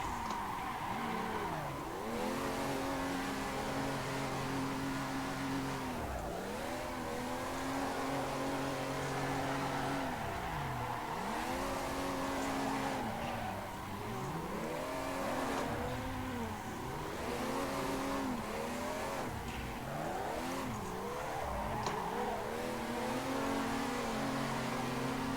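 Drift cars slide in tandem around Tomodachi Kartland in the sim racing game Assetto Corsa, engines revving up and down in repeated swooping bursts with tyre squeal woven through, continuous and loud throughout.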